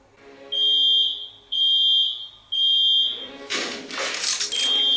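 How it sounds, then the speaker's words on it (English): A fire alarm rings in a TV drama as three loud, sharp electronic beeps with short gaps. A brief burst of noise follows, then the tone starts again. "It's the same freaking alarm in our building"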